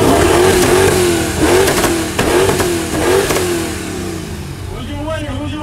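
A car engine at an outdoor rev battle roars loudly, rising and falling through several hard revs before easing to a lower, steadier drone, with crowd and voices mixed underneath.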